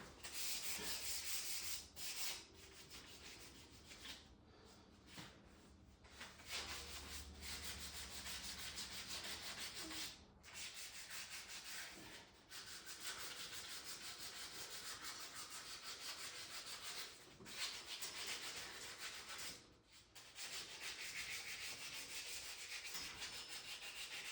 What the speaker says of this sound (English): it would be a good way to get rid of some scrap sandpaper because it's beating it up pretty quick